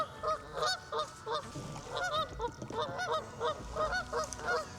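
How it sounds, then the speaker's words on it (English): Several geese honk repeatedly close by, loud nasal calls overlapping in quick bursts with short pauses between them. "those geese seem kind of protective"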